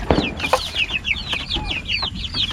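Kabir chickens cluck in a pen, a busy run of quick overlapping clucks and short calls from several birds nearby, with no talk.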